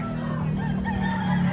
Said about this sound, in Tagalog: Marami silang mga dalang manok.